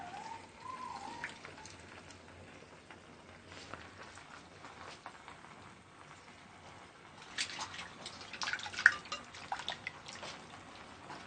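Water is poured into an aloe vera halwa mixture with a maida paste, a faint trickle at first that swells into a brief splashy pour before it tapers off.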